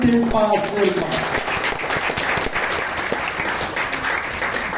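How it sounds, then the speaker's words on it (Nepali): An audience applauds at an event, a dense burst of clapping following a speaker's voice at the start and continuing steadily. "एकपल्ट जोरदार ताली"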